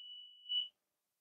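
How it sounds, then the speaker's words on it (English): A household alarm gives a single sustained electronic beep, steady then briefly swelling louder before cutting off into silence. "That's my alarm."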